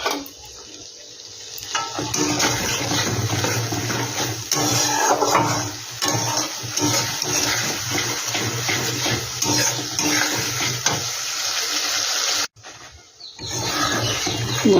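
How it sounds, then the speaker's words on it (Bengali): Water from a rinsed spice bowl is poured into a cooking pot of frying spices for a soybean curry, a steady splashing and sizzling stream that runs for several seconds, briefly stops, then resumes. "ওই বাটিটা ধুয়ে একটু জল দিয়ে দিচ্ছি"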